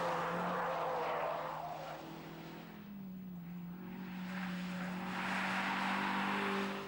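A Renault Clio RS driven on a racetrack, its engine droning loud and steady with rising and falling pitch as it revs through the gears, close and continuous throughout.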